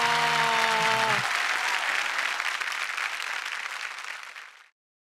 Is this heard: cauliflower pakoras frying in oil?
no